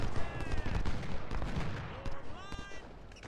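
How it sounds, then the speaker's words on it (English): Troops fire rifles in the Civil War strategy game Ultimate General: Civil War, a rolling crackle of overlapping musketry volleys and booms, dense and continuous, with faint whistling tones above. "We'll just kind of keep these two brigades here, firing away, inflicting casualties."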